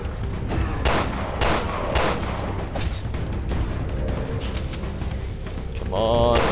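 Gunfire in Resident Evil Revelations 2 during a fight against sloppers: a run of sharp, loud shots at irregular intervals, mixed with game music and effects, with no talk over them.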